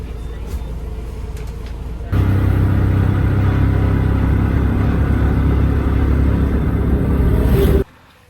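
A bus engine rumbles steadily during a ride to Siem Reap, a loud, low drone that starts abruptly and holds constant before cutting off at the end.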